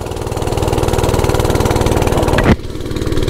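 An oryxearth 105cc minibike engine under throttle, a loud, close, steady rapid chugging of a small single-cylinder that cuts sharply near the end before picking back up.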